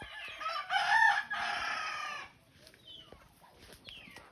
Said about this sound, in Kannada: ಒಳ್ಳೆ ನಾಟಿ ಕೋಳಿಗಳು, ಇದು ಪಕ್ಕಾ ಪ್ಯೂರ್ ನಾಟಿ ಕೋಳಿಗಳು.